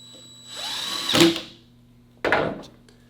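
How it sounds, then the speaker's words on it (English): A power drill drives new screws into a double hung vinyl window lock in two short bursts, the first whirring up and winding down, the second starting abruptly after a brief pause, close and loud. "You just put those new screws in place, and you just sink them right in."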